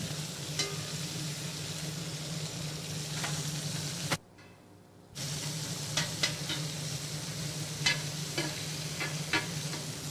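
A single julienned onion sautés in a pan that sausage has just been cooked in, giving a steady close sizzle with occasional stirring scrapes. The sizzle breaks off for about a second, then comes back. No one speaks.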